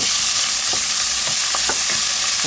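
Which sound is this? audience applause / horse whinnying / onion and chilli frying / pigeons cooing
onion and chilli frying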